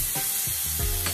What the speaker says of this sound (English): I just want to saute these guys